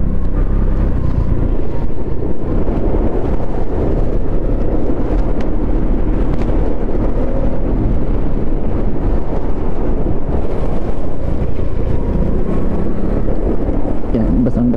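Heavy wind buffets the microphone while riding along a wet road, a loud, continuous roar with steady road rumble beneath it.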